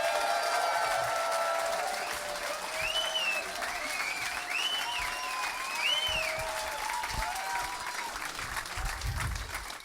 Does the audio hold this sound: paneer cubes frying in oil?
no